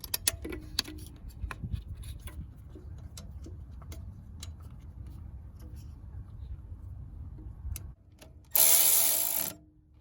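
Ratchet tightening a 10 mm nut on a Honda Accord alternator, quick repeated clicking under a low mechanical hum, close by, ending with a brief louder burst of noise.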